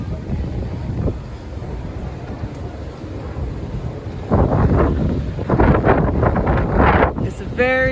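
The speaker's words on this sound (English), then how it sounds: "It's a very windy day, and the only people in the water are the windsurfers." Strong wind at Palm Beach on a very windy day with windsurfers on the water: a steady, loud, roaring buffet across the microphone, with gusts rising harder midway, and a brief faint voice near the end.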